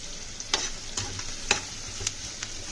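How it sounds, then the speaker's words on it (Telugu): Green chillies and onion with a pinch of salt fry in hot oil, a soft steady sizzle broken by a few sharp scraping stirs spaced roughly half a second apart, close and fairly quiet with no voices. "పచ్చిమిరపకాయలు కోసి ఆయిల్లో వేసుకొని ఫ్రై చేసుకుందాం"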